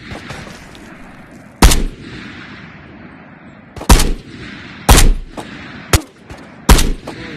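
Gunfire cracks in the VR shooter Ghosts of Tabor: five loud, close, isolated shots spaced a second or more apart, each with a short booming tail over quiet background.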